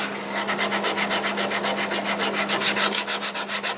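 Sandpaper rubbing a spinning wooden bowl on a wood lathe, a steady rhythmic scratching pulsing about five times a second over a constant low motor hum, close and fairly loud with no talk.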